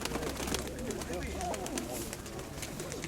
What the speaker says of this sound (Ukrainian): Це голубка, да?